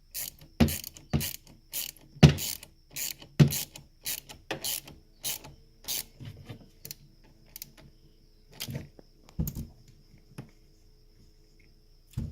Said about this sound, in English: Using your wrench, and you tighten back the bolt.